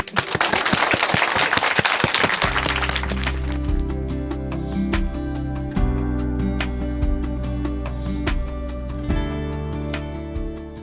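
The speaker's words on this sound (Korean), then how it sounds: "최경훈 형제님, 군대 박수로 모셔보겠습니다." Military-style applause welcomes a guest speaker at a church testimony program, a dense burst of loud clapping that dies away after about two seconds as instrumental music swells in underneath.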